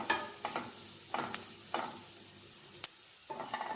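Chopped onion and chilies sautéing in a pan: a soft sizzle under intermittent spoon scrapes and stirring knocks, close and moderately quiet.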